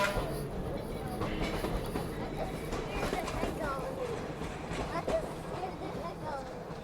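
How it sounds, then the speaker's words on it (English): An old red electric trolley car rolling past at a railway museum in Perris, California, a busy rumbling and clattering of wheels at moderate distance, with people talking throughout. "Comes one of the old red cars."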